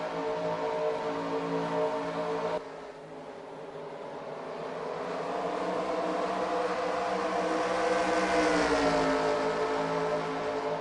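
Race car engines in a racing sim game recreating the 2001 Hardee's 250, a continuous droning roar of several engines whose pitch rises and falls, briefly dropping before building again, with no voices.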